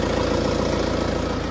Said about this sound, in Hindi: इंजन नॉइज सुनो इसकी।